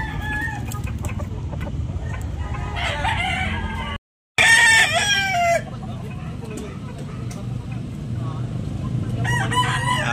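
Several fighting roosters crow loudly one after another at a market, close and overlapping, with a brief gap of silence midway and a constant background hum.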